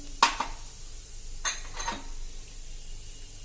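Whole spices, a cinnamon stick and peppercorns, drop into a container while thandai powder is being made at home: two or three small, quiet clinks and a soft rattle, then near silence.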